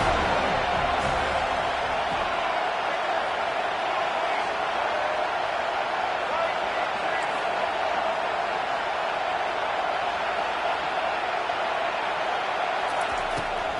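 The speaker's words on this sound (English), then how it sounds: "Big 3rd down as the crowd gets behind this defense." Stadium crowd noise in the college football video game NCAA 25: a dense, constant roar of a large crowd fills the whole stretch without breaks, loud and far-off in character, swelling behind the defense on a third down.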